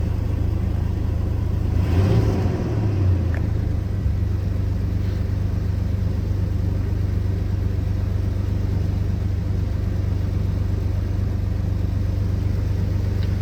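A motor vehicle engine fires up and settles into a steady, close rumbling idle that continues throughout with no talking, started after its ignition switch was wiggled free.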